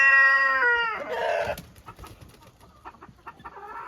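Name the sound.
hens clucking, Leghorn and French breed mix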